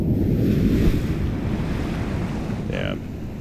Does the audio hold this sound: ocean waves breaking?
yes